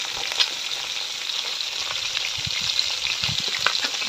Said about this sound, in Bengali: এই মাছগুলো দিয়ে দিয়েছি, এবার উল্টো পাল্টে ভেজে নেব।